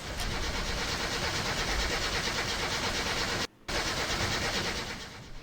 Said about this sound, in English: Once the camshaft was aligned and the engine thrown back in the car, it was time to start her up again